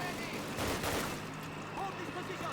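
Machine gun and rifle fire in the Call of Duty video game rattles out in dense, loud overlapping bursts beneath shouted voices.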